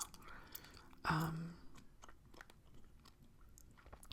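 Close-up, quiet gum chewing with soft wet smacks and clicks near the microphone, interrupted by a brief louder breathy burst, with faint whispery voice in the background.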